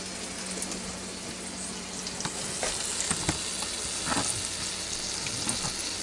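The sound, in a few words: food sizzling in pressure cooker pot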